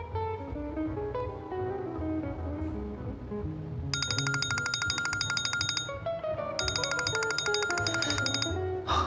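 A phone ringtone plays a bright, repeating electronic melody in two bursts, loud and close indoors, over a low background of room sound.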